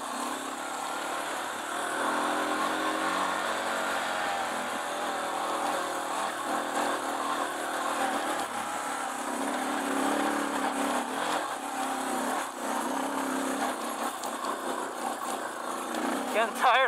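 A Suzuki DR650 dirt bike climbs a hill on a Mojave desert trail, its engine holding a steady, rough drone throughout with small rises and dips in load, close and fairly loud.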